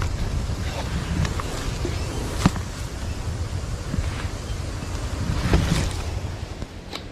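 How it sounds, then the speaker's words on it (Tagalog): Steady wind roars across open water aboard a fishing boat, with constant low rumble and occasional buffeting gusts, no voices. "di po makaporma sila kasi sobrang hangin."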